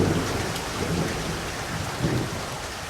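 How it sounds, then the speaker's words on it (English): Steady heavy rain with rumbling thunder, a thunderstorm effect in an audio drama, dense and continuous throughout with low rolls underneath and no voices. "the rain comes endlessly, falling until rivers surge"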